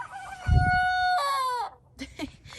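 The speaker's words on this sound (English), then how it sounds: "I forgot to tell you guys he started to crow." A rooster crows nearby, a loud drawn-out call in rising and falling segments, followed by a few softer clucks.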